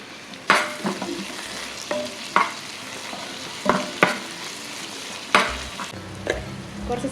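Onion and tomato sautéing in a pan, a steady low sizzle broken by repeated stirring scrapes and clinks of a spoon against the pan, close and fairly loud.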